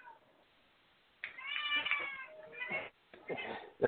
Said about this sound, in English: Who's killing the cat?